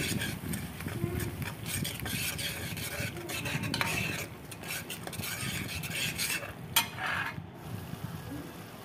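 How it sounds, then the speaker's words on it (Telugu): Ground masala paste mixed with water, stirred in a pan for an egg gravy, a continuous wet scraping and sloshing with a faint sizzle and occasional utensil clinks, close and without talk. "కలుపుతూ ఉండాలి, ఎందుకంటే అడగంటకుండా ఉండేందుకు."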